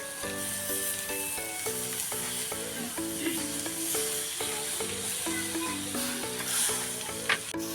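Spiced semolina snack being stirred and fried in a pan, a steady sizzle with scraping stirs under a constant tonal background hum, ending with a sharp clink.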